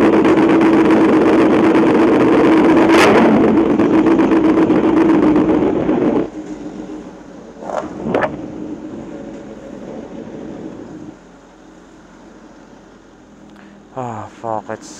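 A Suzuki GSX-R1000R motorcycle rides the highway from San Fernando to NLEX with a loud, steady engine and wind roar that drops away midway into a quieter idle, while riders talk over it.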